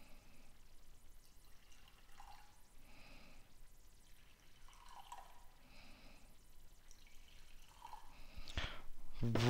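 Liquid poured into a series of cups in a chemistry colour demonstration, with several soft trickling pours in turn at a low level and a sharper knock or splash at the end.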